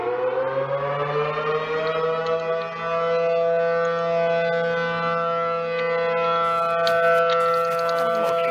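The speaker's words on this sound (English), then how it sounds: "There's sirens." A loud, sustained wailing civil defense siren in a Roblox tornado-chasing game holds a steady, slightly wavering tone for the whole stretch, with faint ticking clicks near the end.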